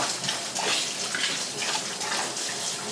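Tap water runs steadily into a kitchen sink as endive is washed a second time to clear away soil, a continuous close splashing gush with no talk.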